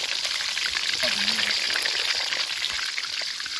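Constant crackling sizzle of tilapia frying in hot oil in a pan, steady and close, with a brief faint murmur partway through.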